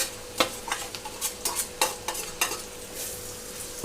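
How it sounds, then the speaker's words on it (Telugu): A spoon stirs bitter gourd pieces through a sizzling tempering in a pan, with a steady fry hiss broken by repeated scraping strokes at an uneven rhythm, close and clear. "ఒకసారి తాలింపు అంతట్లో కలిపేసుకుంటున్నాను"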